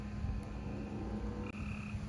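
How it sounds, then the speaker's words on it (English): A Cope's gray tree frog calls near the Outer Banks coast, a steady trilling croak running continuously and fairly close over a constant outdoor background. "There's a Cope's gray tree frog right here."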